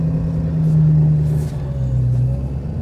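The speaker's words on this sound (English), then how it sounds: "let's see if we can back out of here without putting it in four-wheel drive" A vehicle in two-wheel drive backs out through fresh snow, its engine droning steadily and loudly up close with a low rumble that rises slightly as it strains for traction.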